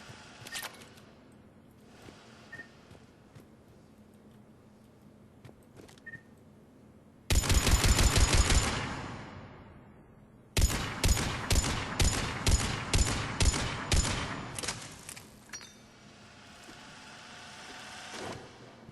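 Mattock rifle fire in Mass Effect 3: a quick burst of shots, a pause, then a string of evenly spaced loud single shots, each ending in a short ringing tail.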